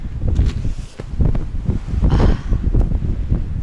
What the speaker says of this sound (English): yeah, you may hear the incredible wind